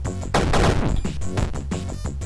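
Revolver shots fired in the retro action game Super Crate Box: four or five sharp, punchy bangs in an uneven rhythm, loud and close over a steady game backdrop.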